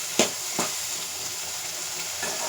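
Garlic sizzles steadily in hot sesame oil, a close, continuous frying hiss broken by a couple of sharp spatter pops and stirring clicks early on, with no one talking.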